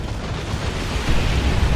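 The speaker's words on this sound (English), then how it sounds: "Hearing some kind of explosions going on. Probably just stick bombs or something." Ork stick bombs and other explosions in Dawn of War 2 churn as a brief, loud, continuous rumbling blast with a slight swell near the end.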